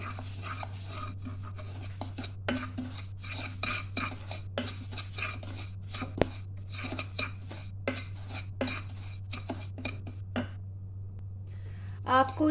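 Semolina being stirred and roasted in a pan with green cardamom, spoon scraping in irregular soft strokes over a constant low electrical hum, with faint clinks.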